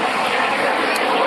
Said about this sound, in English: Oh, I can hear some kind of airplane in the sky.